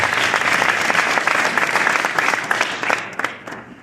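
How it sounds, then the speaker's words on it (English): A live audience applauds a speaker named Melissa with sustained, dense clapping that tapers off near the end, with a few scattered claps. "Let's give her another big round of applause"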